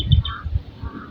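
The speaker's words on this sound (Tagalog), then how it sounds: "Ang dami talagang uwak, mga kamusang." Crows cawing outdoors, with a few short harsh calls in quick succession over a low background rumble, moderately close and without talk.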